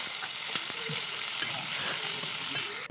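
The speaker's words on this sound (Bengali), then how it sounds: "তাই দেখো মাংসটা কষাচ্ছি" Meat sizzles and fries in hot oil in a wok, a loud continuous hiss with scattered stirring scrapes and taps throughout.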